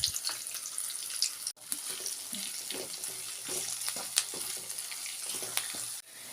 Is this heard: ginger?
yes